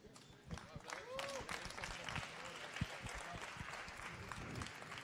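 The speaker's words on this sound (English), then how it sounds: "Give him a big applause." Crowd applause at a science hackathon challenge results event fills the whole stretch, a dense wash of clapping with cheering voices mixed in, steady and moderately loud throughout.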